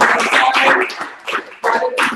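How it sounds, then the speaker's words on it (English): A crowd at an information session gives a round of applause, a bright scattered clatter of many hands that swells, briefly thins, then picks up again, close and fairly loud. "So give all of yourselves a round of applause."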